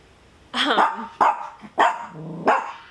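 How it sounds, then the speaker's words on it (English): A dog barks in several sharp, loud bursts nearby while worked up by the wind, with a voice talking between and over the barks. "Oh, you're gonna bark."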